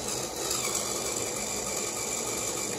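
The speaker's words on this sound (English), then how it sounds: "it is struggling, but you can feel the strength behind the motor." A LEGO Power Functions motor from the 8293 motor set strains with its clutch gear held, giving a steady, continuous high-pitched electric whine with no pauses, close by and fairly quiet.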